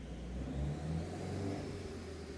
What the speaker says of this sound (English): I hear a pre-turbo exhaust leak.